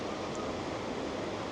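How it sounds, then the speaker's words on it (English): A river flowing beside meditation caves in Rishikesh gives a steady, even rush of water, close and unbroken, with no voices or other sounds over it. "All you can hear is the river flowing."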